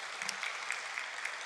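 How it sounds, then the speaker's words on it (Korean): A church congregation claps together in a steady, dense wash of applause that stays fairly quiet and even throughout the short moment. "하나님께 영광의 박수를 올려드리십시다."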